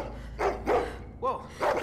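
Dogs barking in The Walking Dead video game, several short mid-distance barks and yips in an uneven rhythm.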